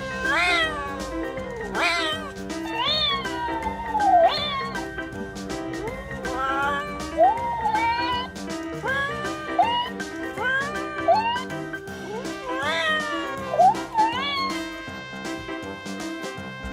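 Cats meow and caterwaul again and again, with rising and falling whiny calls repeating steadily over a continuous background of music.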